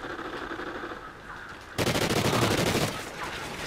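Rapid automatic gunfire from the Vepa in Call of Duty Ghosts, a loud sustained burst of fire following quieter game noise, close and dense for over a second.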